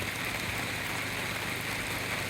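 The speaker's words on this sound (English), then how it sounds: "We got sleet and rain." Dense, steady hiss of sleet and rain falling on surfaces at a primitive campsite in elk country, continuous and even throughout with no voices.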